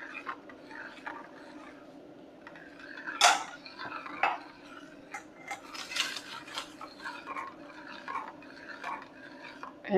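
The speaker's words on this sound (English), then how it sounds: "Do a bit of mixing here again." Kaya coconut egg jam is mixed in a bowl, with soft scraping and a few sharp utensil clinks against the bowl, fairly quiet and close.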